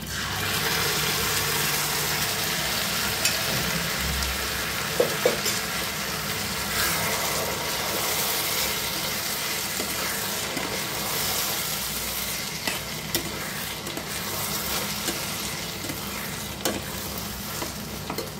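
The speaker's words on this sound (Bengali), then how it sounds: "দিয়ে দেবো মাটনের তেল আর ঝোলটা।" Mutton oil and broth go into rice frying in a pan for mutton pulao, giving a loud continuous sizzle and bubbling hiss, with scraping stirs and a few clinks over the whole stretch.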